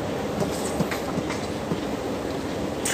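A metro train rumbles past close by, a loud continuous roar of rail cars with rhythmic clicking wheel beats and a brief high squeal near the end.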